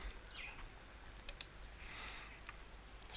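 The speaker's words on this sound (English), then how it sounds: "That means you can type whatever you want here" A short burst of computer keyboard typing, a few light, irregular key clicks close by and fairly quiet against a faint background hum, with no talking.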